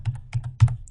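Several quick computer keyboard keystrokes in short bursts while a zip code is entered, close and clear with brief pauses between groups of taps and no talking.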